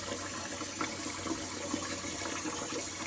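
Water runs steadily as three kilograms of sweet rice are gently washed for makgeolli, giving a continuous close rushing and splashing wash with no talking.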